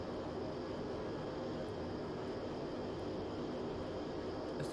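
A Cri Cri light aircraft's engine in Microsoft Flight Simulator 2020 drones with a steady, faint hum through the whole stretch on approach to a runway, alone without talk.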